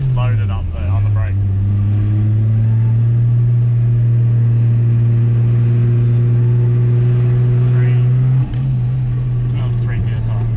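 Turbocharged car engine held on the brake and loaded up, giving a loud steady droning rumble at near-constant pitch that dips briefly once before resuming, with faint talk in the background.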